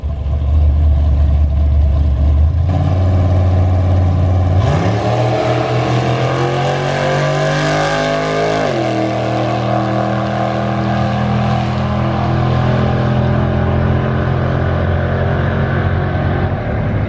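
A truck and a new Toyota Supra race down a dragstrip, their loud engines roaring and revving as they accelerate hard, the pitch sweeping upward through the gears before holding a sustained high drone.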